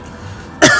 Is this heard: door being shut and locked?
no